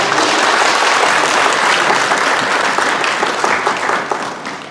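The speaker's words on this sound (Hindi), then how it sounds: "तालियां बजाइए" Dense, steady applause from a crowd in an indoor hall in Darjeeling fills the whole stretch, loud and close, tapering slightly toward the end.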